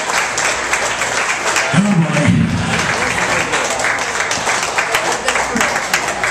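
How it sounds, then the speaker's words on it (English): Audience at a talent competition finale applauding continuously, a dense roar of clapping and crowd noise throughout, with a brief voice heard under it near the start. "Keep that applause going"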